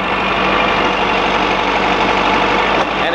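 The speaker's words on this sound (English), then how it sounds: "they're using the backhoe to dig around the root structure" A backhoe digs around the roots of a tall palm tree, its heavy diesel engine droning loud and close at a steady, rough idle-like pitch with no clear pauses.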